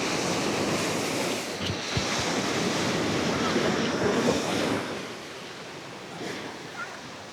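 Strong ocean surf washes in along the Paphos, Cyprus shore, a loud rushing wash of waves mixed with gusty wind buffeting the microphone, the surge easing slightly toward the end.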